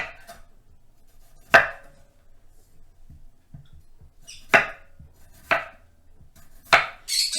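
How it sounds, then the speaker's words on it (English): A kitchen knife slices food into small medallions on a cutting board. About four crisp, separate cuts land against quiet pauses, each one close and distinct, with a few faint taps in between and no talking. "I'm just going to slice these up."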